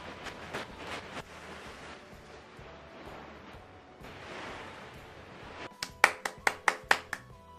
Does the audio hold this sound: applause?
yes